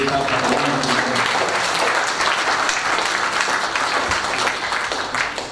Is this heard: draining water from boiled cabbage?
no